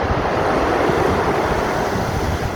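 Sea waves surge onto the beach at Playa de los Perros in Canet, Valencia, a steady unbroken roar of surf with wind buffeting the microphone throughout.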